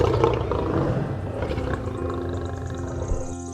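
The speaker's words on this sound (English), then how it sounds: "a lion's roar can be heard from 5 miles away" A lion roars loudly and steadily, a deep rumbling call that continues without pause before fading slightly near the end.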